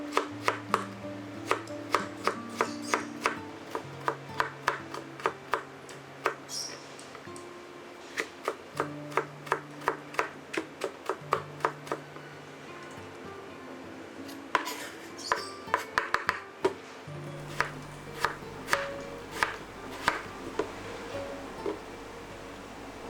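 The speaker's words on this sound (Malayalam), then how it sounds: "പിന്നീട് അത് ചെറുതായിട്ട് കട്ട് ചെയ്തെടുക്കണം." Chayote squash (chow chow) being cut into small pieces with a knife on a board, giving rapid, sharp, evenly spaced chopping taps in bursts and pauses, close up and without speech.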